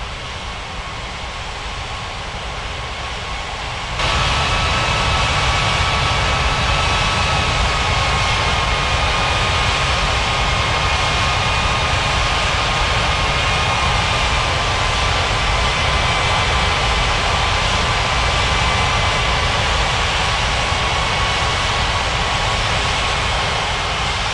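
Jet airliner taking off at Paradise Island in Unmatched Air Traffic Control, a steady roaring engine drone that swells abruptly a few seconds in and then holds loud and unbroken, with faint whining tones above.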